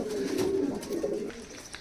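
Kalshira Saharanpuri pigeons coo softly in a loft, a low continuous murmuring of overlapping calls with no voices.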